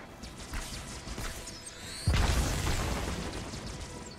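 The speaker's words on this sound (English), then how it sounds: "Stop throwing grenades!" A grenade blast in the Halo 2 Anniversary video game erupts midway as a sudden loud boom with a rumbling, crackling tail, following a stretch of quieter game ambience.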